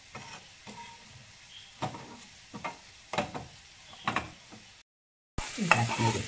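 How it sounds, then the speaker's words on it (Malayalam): Curry leaves and spices heating in a pan, giving a soft sizzle with a string of stirring scrapes and taps at irregular intervals, then a brief cutout before a louder burst of sizzling. "കറിവേപ്പില ഇട്ട് കൊടുത്തു. എല്ലാം കൂടെ ഒന്ന് ചൂടാക്കി"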